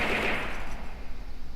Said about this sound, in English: And auto cannon.